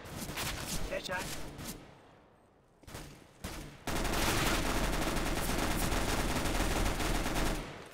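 Gunfire in the video game CS:GO: a burst of shots near 1 s, a brief lull, then dense, sustained loud firing from about 4 s on, with players talking over it.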